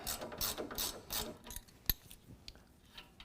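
An 18mm wrench ratchets a nut off a sway bar end link on a 2018 Ford F-150, giving a rapid run of close clicking strokes, then a single sharp metallic tap and a few scattered faint clicks.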